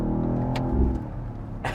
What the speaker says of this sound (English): downshift, floor it,